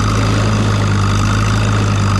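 A classic tractor pulls a plow in third gear, its engine holding a steady, loud, even drone throughout with no voices over it.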